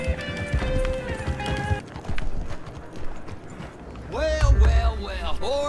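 Horse hooves clip-clopping at a gallop in the open-world western game Red Dead Redemption 2, loud and close, with a horse whinnying near the end.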